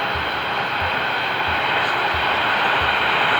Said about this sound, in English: over there it's actually already the S-Bahn, so the trains